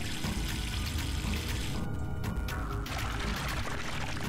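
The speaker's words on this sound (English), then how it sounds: "The sink is plugged and now to turn on the water." Water gushing from a tap into a plugged sink in the puzzle game Zero Time Dilemma, a steady loud rushing pour that holds on throughout.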